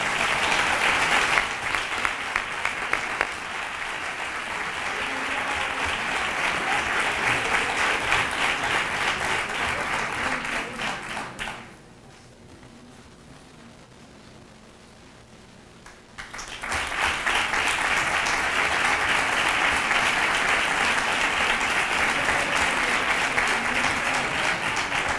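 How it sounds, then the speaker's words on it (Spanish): Strong audience applause at a Three Kings coronation ceremony, loud sustained clapping that stops briefly in the middle and then resumes just as full. "¡Fuerte el aplauso!"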